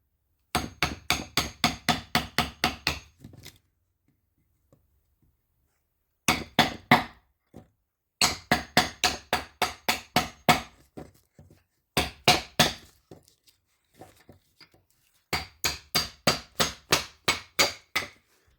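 Woodworking chisel driven into wood by a hammer during a restoration job, heard as four bursts of rapid, evenly spaced sharp strikes, about eight to twelve blows each, close and loud, with short silent gaps between the bursts.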